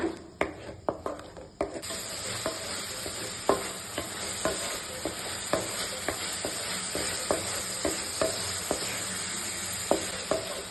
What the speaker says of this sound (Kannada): ಲೋ ಫ್ಲೇಮ್ ಅಲ್ಲಿ ಇಟ್ಕೊಂಡು ಚೆನ್ನಾಗಿ ಫ್ರೈ ಮಾಡ್ಕೋಬೇಕು ಆನಿಯನ್.